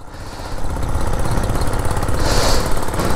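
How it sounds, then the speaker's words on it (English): A vintage 1947 Whizzer Model H motorbike engine revs up as the throttle opens, a close, rapid, buzzing putter that swells after a brief softer start and stays loud and steady, with no one speaking. "let off the clutch and feather that throttle in just a little bit"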